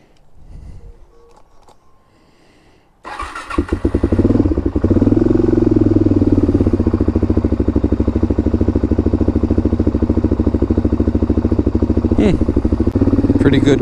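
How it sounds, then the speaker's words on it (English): A Suzuki DRZ400 dirt bike fitted with a clone FCR39 carburetor cold-starts after about three seconds of quiet, then settles into a loud, steady, close-up rumbling idle with a crackly, clattery edge that holds to the end. "Pretty good cold start there."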